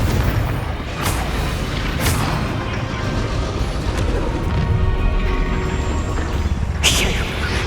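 Confringo blasting spell in the Hogwarts Legacy video game, a few dull booms and crashes over a dense, loud game soundscape, with no speech.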